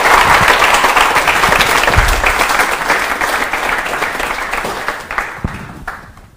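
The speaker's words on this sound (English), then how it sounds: "So please give a big round of applause for." A London audience applauds to welcome a speaker before a talk, the clapping loud and dense at first and then thinning out, with a few scattered final claps as it dies away.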